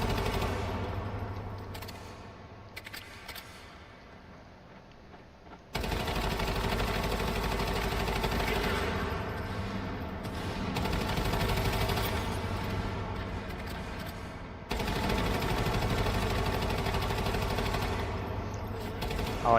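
Bursts of automatic gunfire aimed at a turret in the survival game Once Human come in long sustained volleys with short gaps between them, loud and near, over a low mechanical hum.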